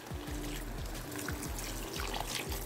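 Reserved water from cooking chicken breast poured into a pan, a steady close trickle and splash lasting throughout with no talk.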